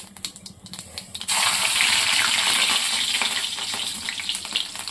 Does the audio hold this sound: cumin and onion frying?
yes